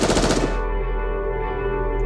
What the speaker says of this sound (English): Soon after, there's the sound of gunfire, and screams fill the streets.